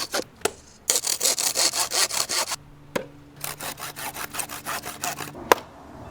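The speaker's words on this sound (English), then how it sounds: "we're gonna do a quick saw test" A cheap knife's blade saws back and forth through wood, a steady run of rhythmic rasping strokes close up, pausing once before resuming at a similar pace, with a couple of sharp knocks between.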